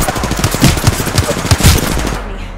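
Gunfire in the Apex Legends battle royale game, a string of rapid shots in quick bursts up close, loud and continuous over a steady background din.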